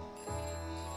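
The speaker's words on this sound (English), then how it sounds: "look at our phone is just ringing off the hook" A telephone rings in the video game TimeOut, a short steady electronic ring tone held clearly on its own at moderate volume.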